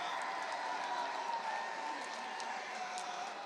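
Ole Miss baseball fans cheer steadily at a college game against Auburn after a game-tying hit, a broad crowd roar that holds continuously with scattered whoops and no clear voice above it.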